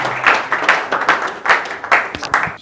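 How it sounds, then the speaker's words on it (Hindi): An audience at a business seminar claps together in steady, moderately loud applause, the rapid claps forming a continuous pulsing wash with no voices heard. "प्लीज एक जोरदार ताली हो जाए"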